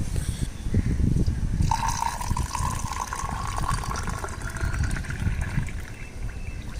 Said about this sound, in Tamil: ஸோ இப்போ இதில் வந்து நம்ம தண்ணி ஊற்றலாம்.